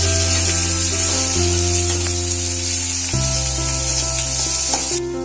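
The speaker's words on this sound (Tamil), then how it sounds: "இது நல்லா பொரிஞ்ச உடனே வெங்காயத்தை போடலாம். இது நல்லா வதங்கட்டும்." Onions frying in oil for puffed rice upma hiss loudly and steadily, while a constant mechanical hum runs underneath and shifts pitch; the sizzle drops away abruptly near the end, with no speech.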